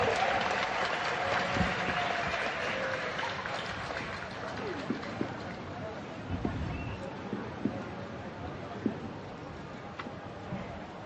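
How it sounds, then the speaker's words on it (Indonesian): Crowd applause rings out during a flag-lowering ceremony for Indonesia's 77th Independence Day, a steady, broad clapping wash that fills the whole stretch with occasional sharper claps standing out, and people talk faintly beneath it. "Kita berikan tepuk tangan yang paling meriah."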